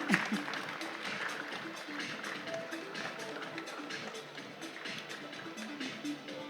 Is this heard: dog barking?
no